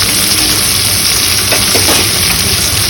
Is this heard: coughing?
no